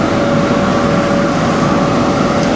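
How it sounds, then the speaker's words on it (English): Two cooling fans on farm machinery with an auger and hydraulics run together in a loud, steady, unbroken whoosh with a faint tonal hum and no pauses. "So you can hear both fans are on."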